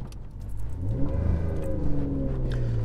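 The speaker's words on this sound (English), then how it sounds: "Let's do a little bit of a pull of this engine and see how it does." Alfa Romeo 155 with the 2.5 litre 12-valve Busso V6 pulling hard, the engine note climbing steadily in pitch as it accelerates, close and fairly loud with no talk over it.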